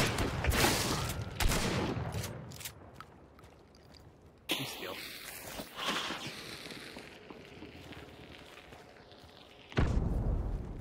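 Gunfire in a video game: a burst of rapid shots at the start, then sparser thuds and impacts over a steady background, with another loud blast near the end.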